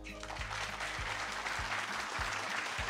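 A stand-up comedy audience applauds in a dense, steady wash of clapping that fills the whole stretch, with a few low thumps underneath.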